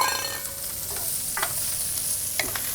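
Shrimp fry with sliced garlic and white onion in a hot pan, a steady close sizzle broken by a few light clinks and stirring scrapes.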